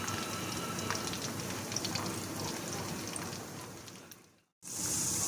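Potato nuggets coated in bread crumbs sizzle steadily in hot ghee over low to medium heat, a dense close crackle and hiss that thins out briefly, drops to a short silence, then returns bright and loud.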